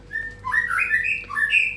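A black-tailed white-rumped shama (murai batu) sings close by, a string of clear, bright whistled phrases rising and falling in quick succession, with no voices.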